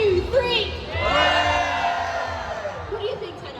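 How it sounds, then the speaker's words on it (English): Audience at a cosplay masquerade cheering loudly on cue, a dense crowd of shouts and whoops swelling and then fading, with a host's voice briefly over it. "So count of 3, let's hear your best cheer."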